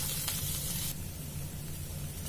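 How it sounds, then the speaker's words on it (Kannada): Baby potatoes fry in oil over medium heat, giving a steady close sizzle and hiss that eases slightly partway through, with no talking. "ಇದನ್ನ ಲೈಟ್ ಆಗಿ ಗೋಲ್ಡನ್ ಬ್ರೌನ್ ಬರೋ ತನಕ ಹುರ್ಕೋಬೇಕು"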